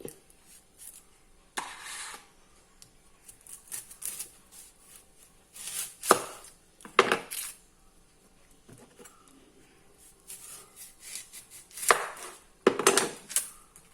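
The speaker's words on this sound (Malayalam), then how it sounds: "ഇനി നമുക്ക് ഒരു സവാള അരിയണം." Several bursts of knife chopping an onion on a board, in short irregular clusters with quiet gaps between, close and fairly loud.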